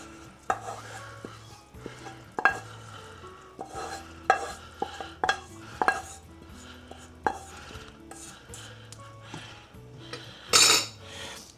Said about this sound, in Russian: Теперь на этом этапе я добавляю нашу зажарку.